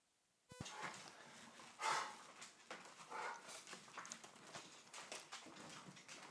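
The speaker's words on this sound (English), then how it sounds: "And I might have to let my dog out." A dog whimpers and gives a few soft barks in the background of a quiet room, the sounds faint and irregular, with no one talking.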